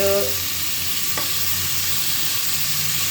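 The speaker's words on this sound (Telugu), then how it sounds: "ఇప్పుడు కట్ చేసుకున్న కూరగాయ ముక్కలన్నీ ఇందులో వేసుకొని వేయించుకోవాలి టమోటా వేసాను క్యారెట్" Chopped tomato, carrot and potato pieces fry in a pan with a constant loud sizzling hiss, close by, with a faint tonal hum and a single light clink partway through, no talking.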